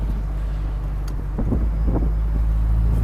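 A classic Triumph TR4 car driving, heard from inside as a loud, steady low engine drone with rushing wind noise and a few faint knocks; no talking.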